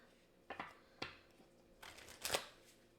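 Tarot cards shuffled in a few short bursts, crisp papery riffles and slaps spaced about half a second apart, ending in a louder, longer flutter of cards near the close.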